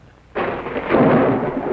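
Heavy rain storm in a 1950s Chevrolet car commercial: a sudden loud roar of driving rain and wind starts abruptly, then swells into a dense, steady rush with a low rumble beneath.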